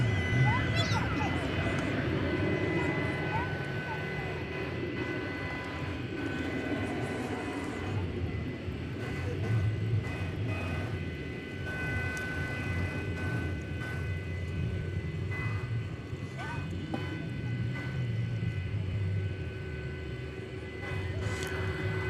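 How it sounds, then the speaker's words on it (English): Airbus A321neo airliner on flight 419 at DFW Airport at night, a sustained rumbling engine roar with steady tonal whine layered over it, under ongoing talk. "It's an Airbus A321neo, flight 419."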